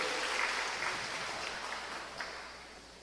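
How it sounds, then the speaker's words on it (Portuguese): Church congregation applauds during a sermon, a faint, diffuse wash of clapping heard at a distance that slowly fades. "Pode aplaudir ao Senhor."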